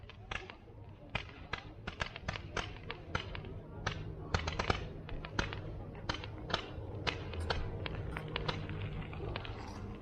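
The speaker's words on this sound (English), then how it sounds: "Yeah, BusFusion fireworks." A steady stream of sharp crackling pops from fireworks at BusFusion 2019 at dusk, evenly spaced bursts of moderate loudness continuing throughout.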